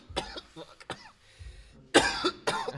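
A few sharp, close coughs mixed with throat clearing during a podcast recording, coming in short bursts separated by brief pauses.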